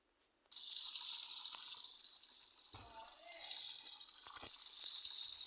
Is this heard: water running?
yes